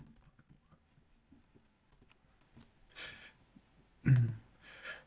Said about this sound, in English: And typing this live on stream.